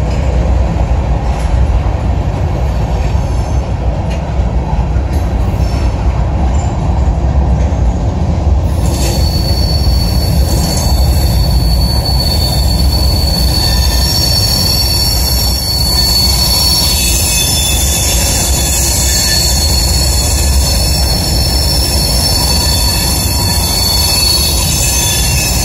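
An RJ Corman freight train hauling corn rolls through Clearfield, a loud continuous rumble of rail cars with persistent high-pitched wheel squeal rising partway through, close and steady.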